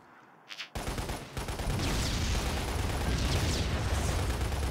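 Sudden bursts of gunfire and explosions erupt after a quiet moment in the video game Lost Planet: Extreme Condition, turning into a dense, continuous barrage of blasts and rattling shots.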